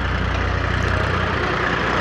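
Tractor engine carrying devotees to the three-day Giraudpuri fair, a steady low diesel rumble with a rhythmic idling throb, fairly close and continuous, with no talk over it.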